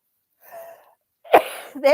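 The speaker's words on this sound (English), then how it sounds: "I've got this sneezing fit going on" A person in the middle of a sneezing fit, with a short breathy intake followed by a sharp, loud sneeze and another vocal burst right after, close to the microphone.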